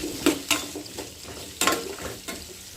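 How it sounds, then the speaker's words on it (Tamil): Red chillies and carrot sauté in a hot pan, a soft continuous sizzle broken by several scraping stirs of a spoon or spatula, close and clear with no talking. "இதை நல்லா வதக்கிக்கணுங்க."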